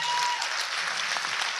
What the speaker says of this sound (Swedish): Ni kan ge er själva en rejäl applåd.